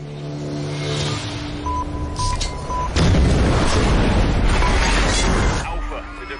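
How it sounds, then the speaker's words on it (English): A bomb device detonates in a tense action scene: after a low rumbling build with a faint beeping tone, a loud heavy boom hits and rolls on as a sustained roar before easing off. "the device has detonated"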